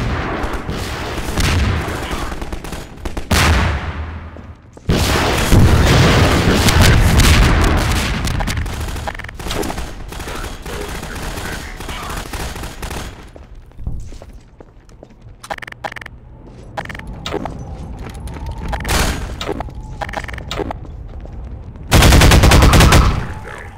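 Heavy gunfire and explosions rage during a tank fight in Half-Life 2 Episode One's Exit 17: loud bursts of automatic fire, booming blasts and a final big explosion over almost half a minute, with no talking.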